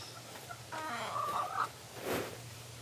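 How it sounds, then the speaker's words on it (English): A caged chicken clucks in a short, warbling run of calls, moderately close over a low constant hum, followed by a brief second vocalization. "Look at that chicken."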